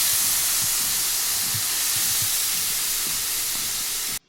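Two tomatoes sauté in oil in a pan, giving a loud, continuous close-up hiss of sizzling that runs without a break before cutting off abruptly.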